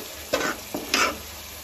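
A spoon makes two quick scraping strokes through masala frying in oil for vegetable biryani, each stir bringing a short swell of sizzle over a faint, steady crackle.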